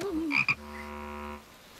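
A cartoon toad gives a drawn-out croak, a single low droning call that holds steady for about a second after a brief burst of higher animated sounds, then trails off into quiet.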